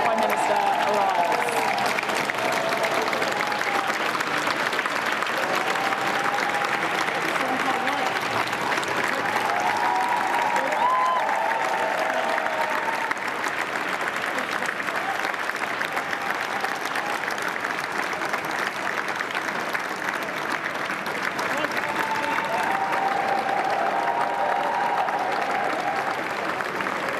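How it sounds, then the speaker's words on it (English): A large crowd applauds steadily as a new Prime Minister arrives, the sustained clapping dense and unbroken for the whole stretch, with a faint murmur of voices mixed in. "You can hear the applause, and that applause is about to get even louder as the new Prime Minister arrives."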